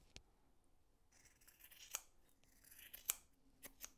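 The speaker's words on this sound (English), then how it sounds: "Now we cut the fringe" Scissors snip through cotton macrame fringe on a small half-moon wall hanging, with several crisp, quiet cuts spaced irregularly: a lone snip early on, then a cluster of closer snips, each a short bright click.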